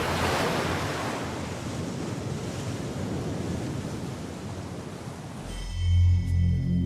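Sea waves surging in a broad, roaring wash of surf and wind noise that fades slightly before giving way to a low, deep rumbling drone near the end.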